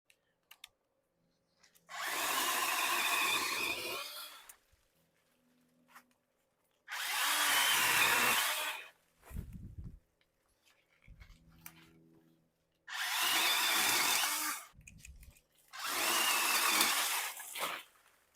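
DeWalt battery pole saw cutting tree branches, four loud whining bursts of several seconds each, separated by quiet pauses with small knocks and rustles.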